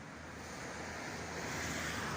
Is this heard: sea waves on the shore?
yes